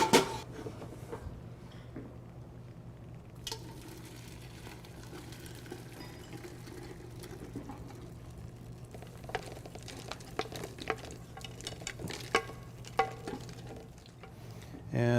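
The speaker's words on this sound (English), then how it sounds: "I want to kind of push and stir so that I extract all the liquid here" Lobster bisque is pushed and stirred through a chinois strainer, giving soft wet scraping and sloshing with faint taps against the metal, quiet and steady beneath a constant low hum.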